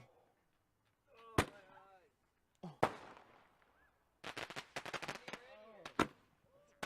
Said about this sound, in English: They were big Roman candles that shot bombs.